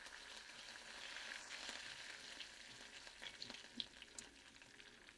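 Dried red chilies and curry leaves spit and crackle in hot oil as a tempering for onion tomato chutney, a steady faint sizzle with scattered sharp pops near the end and no talk.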